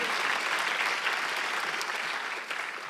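A church congregation bursts into sustained applause during a Sunday worship service, a dense, steady wash of clapping that holds evenly and thins slightly near the end.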